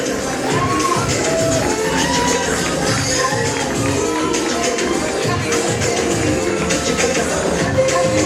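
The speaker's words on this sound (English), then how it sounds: "Big round of applause, ladies and gentlemen" A crowd applauds and cheers for the newly crowned Miss Vancouver 2015 at a pageant, a steady wash of clapping and shouting from a large audience that stays loud throughout, with voices mixed in.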